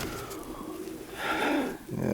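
A roller pigeon coos softly in a loft during a winter storm, low murmuring coos against a steady wash of background noise.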